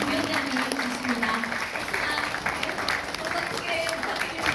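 Audience applause greets Chairman Kim Kyung-soo of the Presidential Committee on Local Era at a guest lecture, a steady, dense wash of clapping that holds level throughout while a voice speaks over it.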